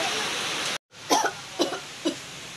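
A few short coughs from a pregnant woman in a children's pretend-doctor ambulance game follow a brief silence, three separate bursts spaced about half a second apart, close by under a constant hiss.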